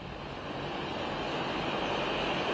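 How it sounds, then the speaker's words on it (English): Loud, steady jet aircraft engine roar at an airport during a prime minister's departure for the ASEAN summit, a broad continuous rumble swelling slightly toward the end with no other sounds over it. "Sorry, I cannot hear because the airplane was too loud."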